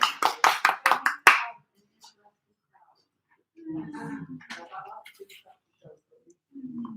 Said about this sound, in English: Everyone give our tour leader a round of applause.